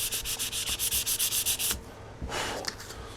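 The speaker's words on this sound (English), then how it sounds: "we will sand that out with the 400" Rapid, rhythmic back-and-forth scrubbing with 400-grit sandpaper on a model rocket, close and loud, stops abruptly, then a few slower, rougher rubbing strokes follow.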